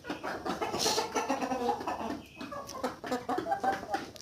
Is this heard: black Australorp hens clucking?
yes